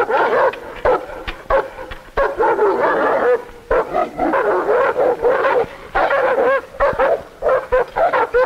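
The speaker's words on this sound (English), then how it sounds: "The dogs, our guard dogs, live in cages, in dog houses." Caged guard dogs at a prison bark loudly and nonstop, a close chorus of overlapping yips and bow-wows with short whimpers between, and no voices on top.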